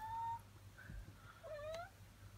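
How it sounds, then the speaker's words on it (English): A domestic cat meows indoors in a home, a few short rising and falling calls close by, fairly quiet over a low steady background hum. "get her to stop meowing"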